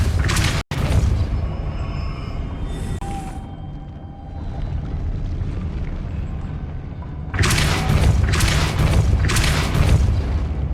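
In the Hogwarts Legacy video game, the Depulso spell effect lands as a deep booming whoosh, with loud rumbling bursts at the start and again near the end over a continuous low game ambience.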